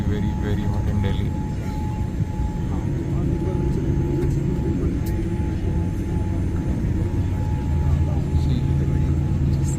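Inside a hot Air India Boeing 787 Dreamliner cabin at Delhi, with the air conditioning not working, a deep steady rumble of cabin noise fills the space while a person speaks over it.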